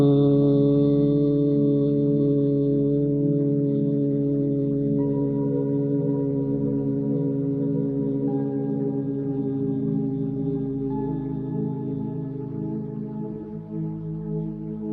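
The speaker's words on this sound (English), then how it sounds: "You will make a humming sound like this." A single person hums a long, steady 'Ma' chant with ears closed while exhaling after a full inhalation in a pranayama breathing exercise. The hum is a deep, even drone that lasts about fifteen seconds, slowly fading near the end, with no talking.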